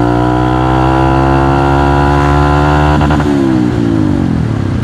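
Trail motorcycle engine running loud and close, holding a steady high rev with a buzzy harmonic drone, then the pitch drops and wavers around three seconds as the throttle eases and the engine stumbles slightly.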